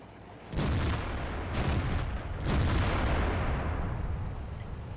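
Several tank guns fire in a World of Tanks battle as IS-3 heavy tanks shoot on the move: three loud booming blasts in quick succession, each leaving dense rumbling noise that stays heavy and sustained.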